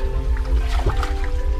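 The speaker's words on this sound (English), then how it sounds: "There's water dripping down everywhere." Water drips inside a sapphire mine shaft in Sri Lanka. A soft wet splash stands out against a loud, constant droning hum from the pumping machinery, with no voices.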